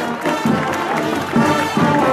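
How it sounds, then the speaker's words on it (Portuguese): Audience applause at a street parade for a champion state fanfare band, dense and steady clapping with crowd noise swelling in waves throughout. "Vamos aplaudir a fanfarra"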